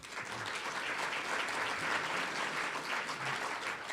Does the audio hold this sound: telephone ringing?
no